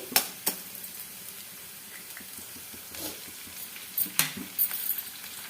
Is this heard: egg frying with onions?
yes